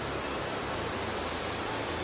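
A river runs steadily at a quiet bathing spot a short way off the road in Kerala. The rushing, broadband flow is continuous and fairly near, with no voices over it.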